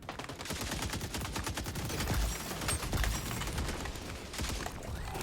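RPK light machine gun fire in Modern Warfare II, rapid sustained automatic bursts with dense, evenly spaced shots, loud and close, with short pauses between volleys.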